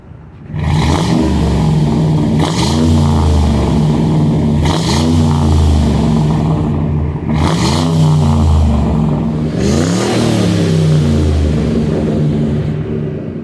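A car engine with compression loss and smoking, run with a catch can and restore additive and fresh spark plugs, idles loudly and is revved about four times in steady, evenly spaced surges that rise and fall.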